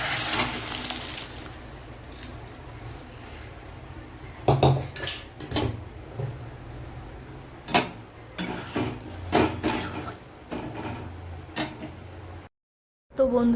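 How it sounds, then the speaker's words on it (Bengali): Dry peas tipped into a pot of fried spice paste while cooking ghugni, a Bengali pea curry, in a home kitchen, giving a series of clattering pot and utensil knocks, stirring scrapes and sizzling close by, with no talk. "এখন আমি এর ভিতর মটরটা দিয়ে দেব।"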